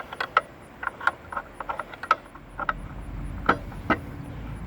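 A blade bolt is loosened on a Hercules 12-inch sliding miter saw, heard as scattered close metallic clicks, ratcheting ticks and small clanks in an irregular rhythm, with no voices.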